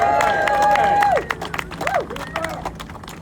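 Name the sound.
audience applause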